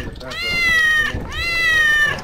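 Two drawn-out meows from a cat in the Lethal Company video game, loud and close, one after the other with game noise beneath.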